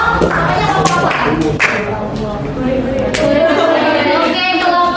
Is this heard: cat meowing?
no